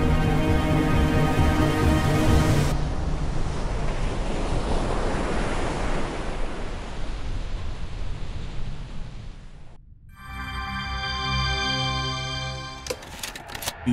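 Ocean waves wash in a video game, a broad, steady surf roar with wind-like hiss lasting about ten seconds before cutting off abruptly into brief tonal game sounds.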